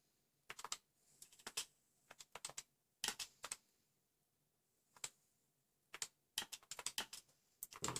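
Quiet typing on a computer keyboard, irregular clusters of close, crisp key clicks separated by brief pauses.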